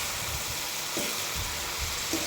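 Amaranth leaves and tomato cook in a pan for curry, a continuous soft frying sizzle with light scraping and tossing sounds throughout, no voices.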